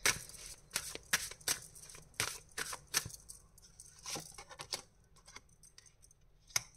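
Tarot cards being drawn from a deck, a run of crisp shuffling and flicking card sounds in quick irregular bursts, close and fairly soft, with no talking.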